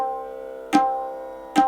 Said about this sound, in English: You might get a raw sound if you don't touch the middle finger and play with the index finger.